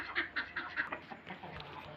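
Village chickens disturbed by a pet rabbit cluck and squawk in a quick run of short calls, fairly faint and somewhat distant, with no talking.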